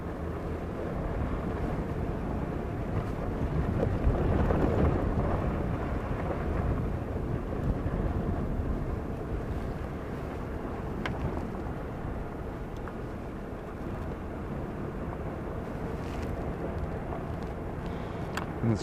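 Strong wind roaring steadily, a dense rumbling rush that swells in the middle and then settles, with no voices.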